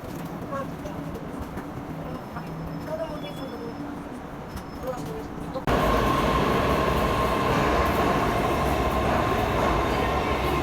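A train rumbles past close by in Saint Petersburg, a loud steady roar that suddenly swells halfway through, drowning out faint background chatter.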